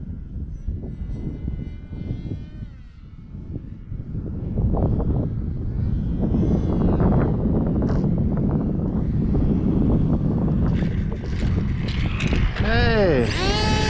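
A Value Hobby Condor X-75 RC plane with an 1800 motor and nose rudder flies overhead: a steady electric-motor drone mixed with wind buffeting, swelling louder midway and ending in a swooping, pitch-bending whine as it passes close.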